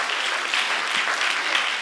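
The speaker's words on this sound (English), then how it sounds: "Give him a warm round of applause" Steady applause from a crowd, dense and continuous clapping throughout with no pauses, fairly close and even in loudness.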